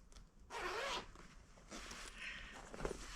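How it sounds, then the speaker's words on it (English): A zipper on a sewn fabric toy car storage bag is drawn open in a long, continuous pull, with quieter intermittent zipping strokes following as it is worked around the corners, close and clear. "We unzip it"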